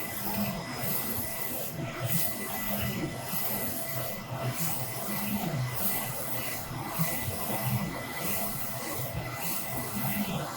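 A Focus Alpha Max 6250 printer prints a varnish layer, giving a continuous low mechanical rumble and rubbing. Faint regular pulses recur about once a second.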